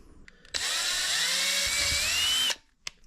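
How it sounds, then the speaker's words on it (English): A power drill with a 1/8 inch bit bores into a 2003 Seadoo GTI hull, a loud steady high whine lasting about two seconds that starts and stops abruptly, followed by a brief faint clack. "What we'll do with that is just an 1/8 inch drill bit, sort of right in between on the ramp side"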